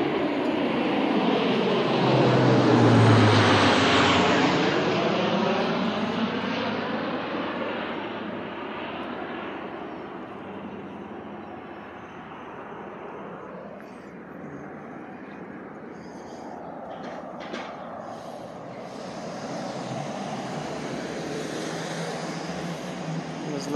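A C-130 military transport plane flies over at an outdoor obstacle course, its propeller drone swelling loud and close, then fading gradually into the distance over about twenty seconds.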